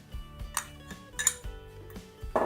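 Spinach pasta dough mixed by hand in a bowl gives a series of clinks and knocks of utensil against the dish, spaced irregularly and fairly quiet, with no talk.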